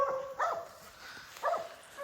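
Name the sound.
hunting dogs barking at treed bear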